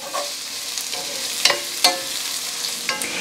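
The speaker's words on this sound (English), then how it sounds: "We're just gonna saute these onions." Onions saute in a pan over medium heat, giving a steady soft sizzle broken by a few sharp clinks and scrapes from stirring, with no talking.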